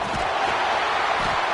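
A college football stadium crowd at Oklahoma State versus Kansas State roars and cheers continuously as the offense lines up, a loud, dense wall of noise with no break.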